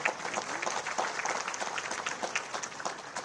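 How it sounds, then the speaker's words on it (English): Audience applause fills a conference hall at the opening ceremony of a disaster management congress, a steady dense patter of many hands clapping throughout at moderate volume. "A huge round of applause for him."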